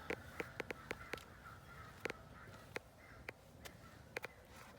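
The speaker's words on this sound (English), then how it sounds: "Crows are going crazy." Several crows caw in sharp, irregular bursts, some overlapping, faint and somewhat distant against a quiet outdoor background.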